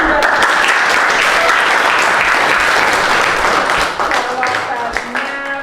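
A classroom audience claps loudly in dense, sustained applause during a teacher's performance assessment session, close and continuous, easing slightly toward the end.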